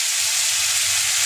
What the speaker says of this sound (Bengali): এদিকে মাংসটা ফ্রাই হচ্ছে